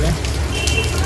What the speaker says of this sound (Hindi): बारिश हो रही है।